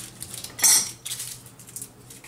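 A kitchen knife topping and tailing shallots on a board while preparing boeuf bourguignon, with one sharp, close cutting clack followed by softer knocks and light handling noises.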